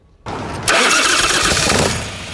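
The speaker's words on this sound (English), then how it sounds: "We followed Billy Lane as he fired up the second Hubless bike and took off for a spin." A custom hubless-wheel motorcycle starts up: a short crank, then the engine catches and roars loudly into a rough, throbbing idle that eases slightly toward the end.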